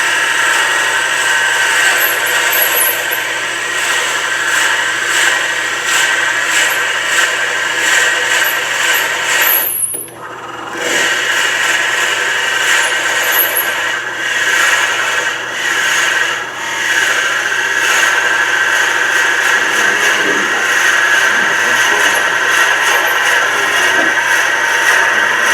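A drill bit bores a hole through a wooden pepper mill blank turning on a lathe spindle, giving a continuous loud grinding whine with a brief dip partway through, sustained for about twenty-five seconds.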